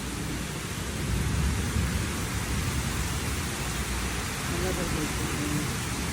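A summer thunderstorm heard as a dense, continuous wash of heavy rain with deep rumbling low thunder underneath, loud and steady throughout without clear breaks.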